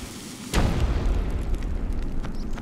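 A lit-fuse bomb in ICO detonates with a sudden sharp crack followed by a heavy, sustained rumbling roar that lingers for two seconds, loud and close, with faint clicks afterward.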